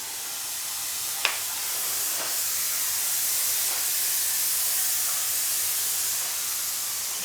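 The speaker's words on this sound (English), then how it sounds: "It started generating steam." A Vileda Steam Mop Plus with no pad fitted puts out a steady, broad hiss of steam, with a single sharp click near the start and faint tapping later.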